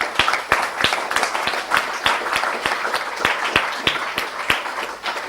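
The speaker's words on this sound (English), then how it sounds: "give a big round of applause to our team, the Mobius team" Audience applause at a software engineering conference closing ceremony, steady clapping with sharp, distinct nearby claps standing out rhythmically against the broader patter of the hall.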